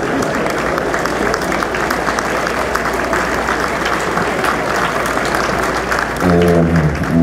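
Audience applause at a professional engineers' collegiation ceremony, steady loud clapping from a hall crowd throughout, with a voice starting to speak over it near the end.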